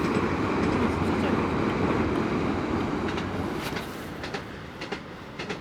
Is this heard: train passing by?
yes